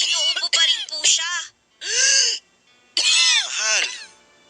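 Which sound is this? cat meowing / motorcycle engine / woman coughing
woman coughing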